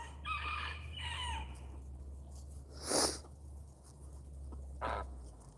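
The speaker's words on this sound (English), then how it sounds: "All these hangry birds, they're going crazy." A frizzle rooster crows once, loud and ringing, among fluffy frizzle chickens on a homestead, with scattered clucks and shuffling around it and no talk.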